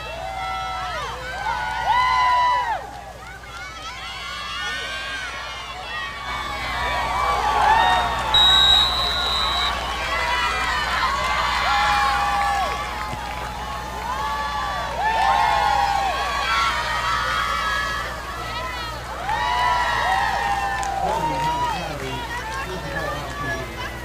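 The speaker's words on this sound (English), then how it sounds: "You'll have to enjoy the sounds of the crowd, I suppose." Crowd at a high school football game, a broad murmur of many voices with rising cheers and shouts swelling and fading throughout, distant and continuous with no single voice standing out.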